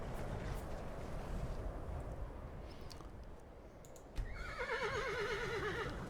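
A horse in the video game Skyrim gives a quavering whinny near the end, preceded by low rumbling ambience and a few soft clicks and clops.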